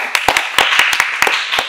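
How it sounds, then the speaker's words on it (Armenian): Studio audience applause greets a guest arriving on an Armenian television talk show: a short burst of scattered, close, fairly loud hand claps with an uneven rhythm. "Ծափահարություններ"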